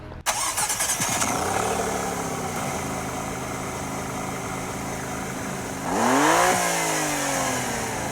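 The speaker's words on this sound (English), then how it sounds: "you can see how you can even listen to the sound of engine" A Maserati MC20's powerful engine cranks and fires up, idles with a steady throaty rumble, then revs sharply upward near the end.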